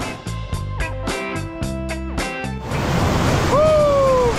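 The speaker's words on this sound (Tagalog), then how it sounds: "Alon!" Surf crashing at Baler, Aurora, near Mother Falls, a loud steady wash of breaking waves that swells up strongly in the second half, after a stretch of rhythmic music; a brief tonal squeal cuts through near the end.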